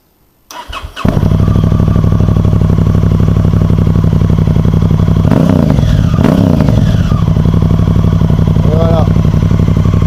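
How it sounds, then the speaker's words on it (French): A motorcycle fitted with a LeoVince aftermarket exhaust starts up close and then idles loudly in a fast, even pulsing throb, with a couple of brief blips partway through. "pour le bruit de la moto."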